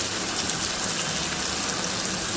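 Goat meat with garlic paste fries and is stirred in a pan, a dense, loud, rain-like sizzle rushing continuously and close, with no one talking.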